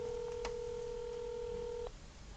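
Telephone keypad DTMF tones play as a steady pair of beeps over a hissy line, one or two brief extra key presses, ending abruptly near the end.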